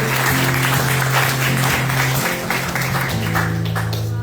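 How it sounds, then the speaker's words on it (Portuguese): Congregation clapping at a Sunday church service, a continuous wash of many hands over sustained organ or keyboard chords that shift partway through, with a faint voice underneath. "adore Ele através de uma salva de palmas"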